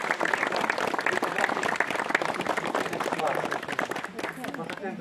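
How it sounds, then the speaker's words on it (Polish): Crowd applause at the consecration of a chapel of the Mother of God in Krasice, Poland, a dense, steady clapping that fills the whole stretch, with voices mixed in. "Oklaskami witamy"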